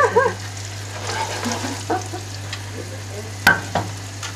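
Meatballs sizzle and crackle softly in hot oil, with a few scraping stirs and a sharp clatter, over a low steady hum.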